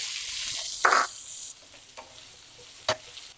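Onions tipped into hot oil with asafoetida, cumin and urad dal for bun dosa tempering give a short, loud sizzling burst, followed by softer frying hiss and a brief sharper crackle near the end.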